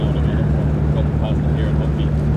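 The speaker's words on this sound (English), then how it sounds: "that's another boat now from Ballyconnell" A boat cruises on Lough Erne, its engine giving a steady, close, low droning hum, with faint voices now and then over the motor.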